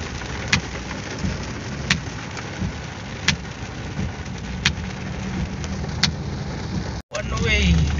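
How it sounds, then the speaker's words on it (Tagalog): Steady heavy rain hisses across the whole clip during a road trip from Albay to Camarines Sur, with a few sharp drips or clicks and voices murmuring faintly underneath. "Ayun na, lumakas ng ulan"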